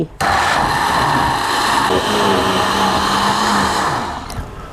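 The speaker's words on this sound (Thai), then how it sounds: "แล้วก็ปิดฝา ปั่นได้เลย" A blender whirs steadily, blending fingerroot (krachai) with water. The loud, constant motor hum starts abruptly, holds for about four seconds and then winds down at the end.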